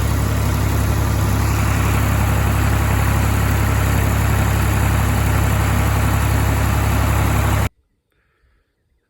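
A golf cart engine runs steadily with a loud low rumble and a constant mechanical drone for about eight seconds, then cuts off abruptly into near silence.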